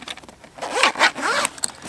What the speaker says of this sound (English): Your first set of zips allows you to access that table